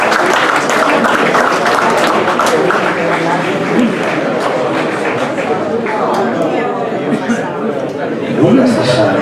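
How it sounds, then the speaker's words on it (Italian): Sustained applause and crowd chatter for a club guest being welcomed at an Italian gala evening, steady and dense throughout, with voices mixed into the clapping. "Grosso applauso"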